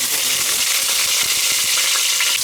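Curry leaves hit hot oil for a Jaffna mutton curry, giving a loud, steady hiss and crackle with scattered sharp pops throughout, close up and without talk.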